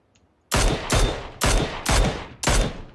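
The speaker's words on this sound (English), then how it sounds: "Well, he's getting shot at." Five loud, evenly spaced gunshots ring out in a PUBG match, each a sharp crack trailing into a short echo, with no talk over them.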